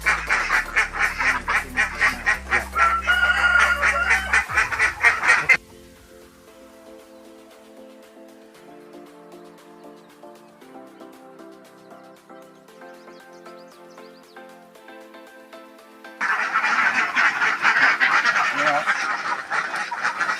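Ducks on an Indonesian duck farm quacking and honking loudly as a noisy flock for about five seconds, then a quieter stretch with only faint sounds, before the loud flock calls return near the end.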